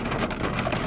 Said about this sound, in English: Can y'all hear the rain? Cause it's slapping. Like, I hear it.